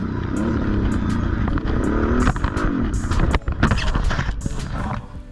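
A Kawasaki KFX700 ATV racing, its engine revving and whining, then a chaotic burst of crashing thuds and clattering impacts before the noise fades.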